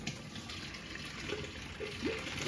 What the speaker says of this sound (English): I'm going to pour off the water